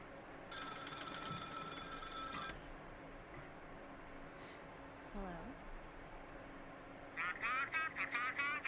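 Telephone ringing in a horror short film: a loud electronic ring burst near the start, then a quieter stretch of low room sound, and a faint rapid chirping ring returning near the end.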